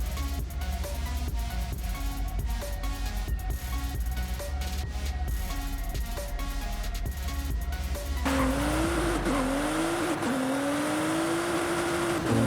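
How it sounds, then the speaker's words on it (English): A Nissan GT-R R35 is driven in a racing video game with a force-feedback steering wheel. A loud, steady engine drone fills the clip, and after a few seconds tires squeal and skid with a wavering pitch. "We are currently driving a Nissan GTR R35 and I can feel the feedback of the wheel while I turn it."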